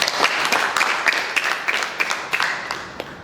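Applause from a gathered crowd at a church ministry's tailoring school ceremony, a dense wash of hand claps with a few sharper claps standing out, steady and moderately loud throughout.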